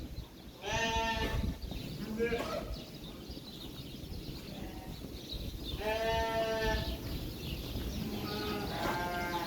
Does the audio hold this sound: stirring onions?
no